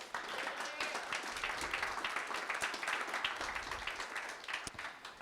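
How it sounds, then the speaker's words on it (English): Audience applause for a presenter at a 2016 presentation event, steady but faint and distant clapping throughout. "Can we give a big round of applause for Magid?"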